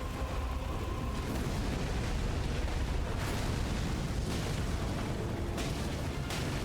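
Fire from St. Trina's Torch in Elden Ring roars as a steady, dense rushing blast, loud and unbroken throughout, with a few brief surging bursts layered on top.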